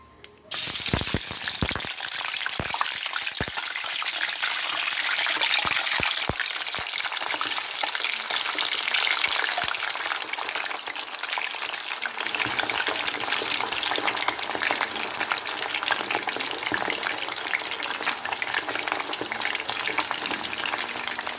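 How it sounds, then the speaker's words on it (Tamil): Cut French fries crackle and sizzle steadily in hot oil in a kadai, a dense, close, continuous frying hiss with small pops and a brief stir partway through. "எண்ணெயில் பபிள்ஸ் வர ஆரம்பித்ததும் நம்ம ஃப்ரெஞ்ச் ஃப்ரைஸை வந்து போட ஆரம்பிச்சிடலாம்"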